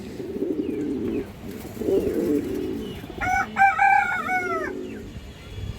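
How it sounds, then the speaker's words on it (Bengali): A silver female pigeon coos in a short burst of repeated throaty notes near the end, following softer low murmurs and rustling close by, fairly quiet overall. "খুব সুন্দর একটা মাদি কৌতর"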